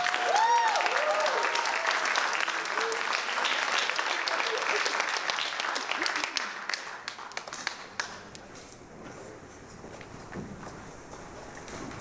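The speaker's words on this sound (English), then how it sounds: "everyone give a round of applause for Kirolos, Sadallah." A comedy club audience applauding a stand-up comedian, loud sustained clapping with cheers that dies down after about eight seconds into scattered claps and a quiet room.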